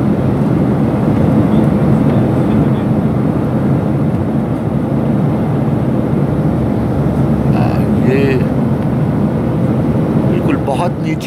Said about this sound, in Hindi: बहुत नीची उड़ान उड़ रहा है ये जहाज़